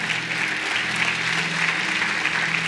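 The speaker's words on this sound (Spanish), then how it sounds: "Dale un aplauso fuerte." Church congregation claps strongly after a closing prayer, a sustained, dense roar of applause at steady volume, with a low musical hum or organ tone running underneath.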